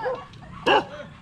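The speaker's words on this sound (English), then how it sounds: "Oh, he means business. Watch that dog, watch that dog," A single sharp, loud bark from a nearby dog bursts out during a daily street walk in the Philippines, standing out above quiet background noise.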